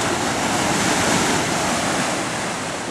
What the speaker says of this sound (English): The ocean was very calm today.